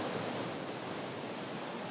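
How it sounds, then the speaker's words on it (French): An underground waterfall, the Salette cascade in a cave in Ariège, pours as a steady broadband roar, constant and unbroken, fairly soft and diffuse, with no voices. "On arrive avec cette cascade au terme de notre parcours."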